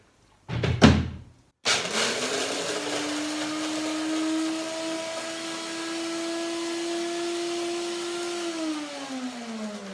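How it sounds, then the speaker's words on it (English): A blender grinding dry hazelnuts into flour whirs at a steady high pitch for several seconds after a short knock, then winds down near the end. "put it dry into a dried blender"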